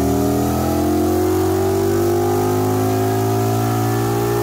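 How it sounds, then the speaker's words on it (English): An Indian Scout Bobber motorcycle with a stage one Indian intake and Indian shorty stage one mufflers runs on a dyno during a power pull, its engine loud and close as the pitch climbs steadily throughout. "I did put the bobber up on a dyno to do a pull"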